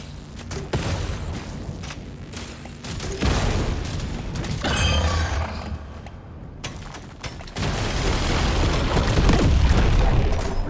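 Explosions of bugs in the video game Deep Rock Galactic Survivor, a series of dense, loud booms and crackling bursts over continuous game action, with no talking.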